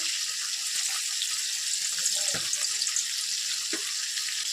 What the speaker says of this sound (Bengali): আমি একটা শুকনো লঙ্কা ফোড়ন দেবো